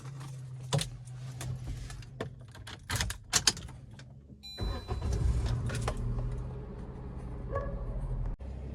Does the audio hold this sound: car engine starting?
yes